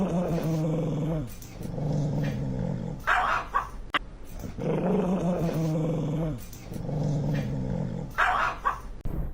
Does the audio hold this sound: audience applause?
no